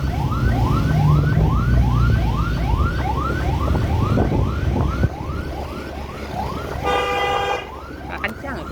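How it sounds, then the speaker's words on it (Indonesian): An ambulance siren wails in a rapid repeating rise-and-fall pattern, loud and close as it passes along a rainy road in West Sumatra among traffic, with a horn blast near the end. "Ada ambulan."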